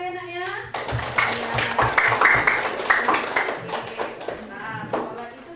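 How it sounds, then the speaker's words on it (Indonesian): Children clap together in a classroom circle, a steady run of rhythmic hand claps with some chanting voices over it, fairly close and lively throughout. "Kita tepuk melingkar ya nak ya."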